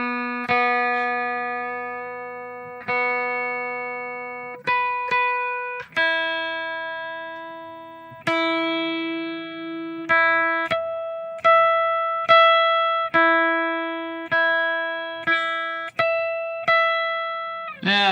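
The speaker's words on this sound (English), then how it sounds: "these Neural DSP tuners, they work fantastically with a neck pickup" An electric guitar on its neck pickup being tuned through a Neural DSP tuner: single notes and harmonics are plucked one after another, each ringing clearly and decaying, with a dozen or so picks spread over eighteen seconds.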